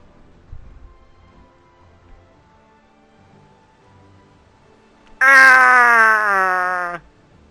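A single drawn-out cat meow from the video game Final Fantasy XIV, loud and close, rising then slowly falling, after a few seconds of near silence with faint low thumps.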